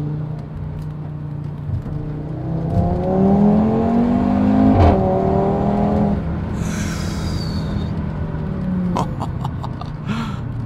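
A five-cylinder Audi TT RS Roadster engine revs up and holds a loud, rising growl, then eases back to a steady rumble, with a brief whine partway through.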